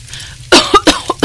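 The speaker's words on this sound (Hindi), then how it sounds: "जोर जोर से खांसने लगती है" A woman coughs loudly while cooking at a hot clay stove, four or five sharp, harsh coughs in quick succession, close and alone.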